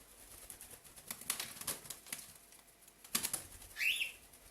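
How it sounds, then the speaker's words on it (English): Indoor birds flap their wings in several soft, fluttery bursts at close range, with a short sharper flurry near the end and no talking over it. "Birds."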